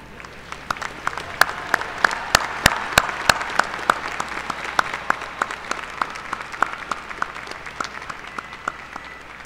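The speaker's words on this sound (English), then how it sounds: "give this group a hearty round of applause" A commencement audience applauds graduating degree candidates at a university spring ceremony, with steady crowd clapping punctuated by sharp, close individual claps standing out above the wash throughout.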